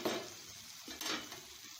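Gongura chicken cooks in plenty of oil in a pan, giving a soft close sizzle with a couple of brief stirring and scraping sounds of a utensil against the pan, and no one speaking.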